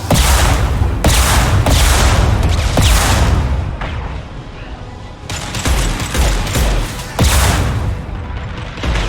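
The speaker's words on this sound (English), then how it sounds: "Firing an impact shot" Gunfire in the video game Mass Effect 2, loud and dense bursts of shots with heavy booming blasts, coming in several rapid volleys separated by brief lulls filled with rumbling combat noise.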